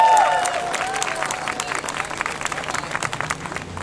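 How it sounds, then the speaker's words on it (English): A crowd applauds at a ceremony welcoming a city mayor, dense clapping that swells loud at first and then thins and softens into scattered claps, close and steady with no talk over it. "Please give a warm welcome to Mayor Muriel Bowser."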